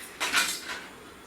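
A knife and a small spoon for mixing curries handled in a kitchen: a brief clink and rattle of metal utensils, fairly close, with a softer second clatter trailing off, no talking.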